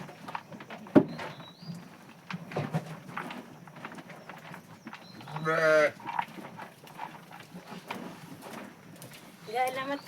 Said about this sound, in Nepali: गाईलाई मात्रै क्याटल फिड दियो भनेर भेडा रिसाउँदैछ पर।